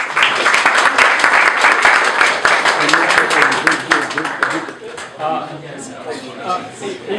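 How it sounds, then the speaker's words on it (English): A round of audience applause for guests at the close of a panel discussion show, dense clapping for about five seconds, then thinning out as voices and scattered sounds take over. "we'll say another round of applause to our guests"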